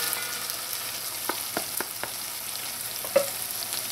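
Okra fries in hot oil in a pot, giving a soft, steady sizzle with a few faint clinks and stirring taps scattered through, quiet and close, no voices.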